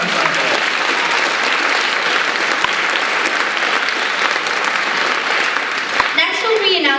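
An audience at a school performing arts awards show applauds the percussion ensemble, loud sustained clapping, with a voice starting to speak near the end.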